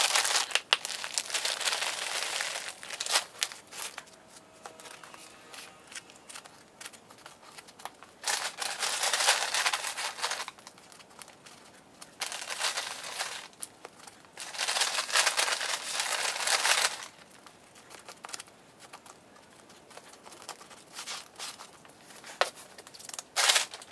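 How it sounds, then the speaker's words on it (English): Plant cutting being potted up, with long bursts of crinkly, gritty rustling as soil and a plastic pot are handled, close and fairly loud, alternating with quieter pauses and no talking. "now I will put the other cutting into a pot"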